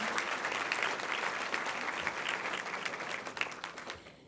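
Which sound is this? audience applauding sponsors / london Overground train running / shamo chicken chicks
audience applauding sponsors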